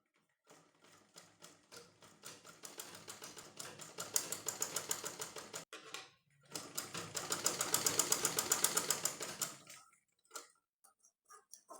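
Sewing machine stitching blouse fabric in two long runs of rapid needle clatter separated by a short pause, followed by a few scattered clicks.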